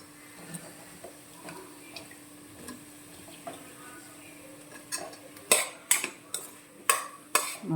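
A spoon stirs kohlrabi curry with masala in a pan, making light scrapes and ticking taps against the metal. The strokes grow louder and sharper clinks come in quick succession toward the end.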